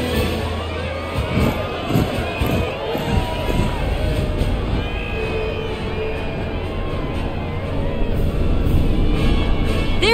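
Cheering crowd at a parade in Final Fantasy 7 Rebirth, a loud continuous roar of shouting and cheers with rising whoops, sustained for the whole stretch.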